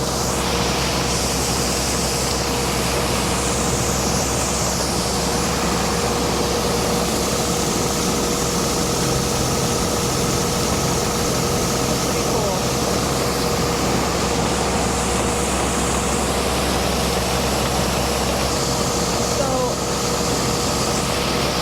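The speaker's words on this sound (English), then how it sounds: "The motor that's driving this auger was replaced the other day." Hydraulic motor driving a grain corn auger during a snowy harvest, a dense continuous mechanical roar with a steady low hum and a faint whine, loud and unchanging throughout, with a voice faintly beneath.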